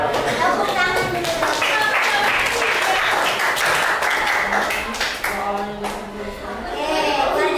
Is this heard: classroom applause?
yes